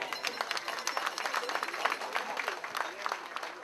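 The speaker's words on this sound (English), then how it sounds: "Would you give a big applause for two of the lovely kids up here?" Scattered, fairly quiet audience clapping at a gala thank-you dinner, honoring two children presenting an award. Distinct individual claps patter steadily from a mid-distance crowd.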